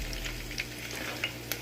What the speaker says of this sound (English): here I have some onions that I'm gonna be lightly frying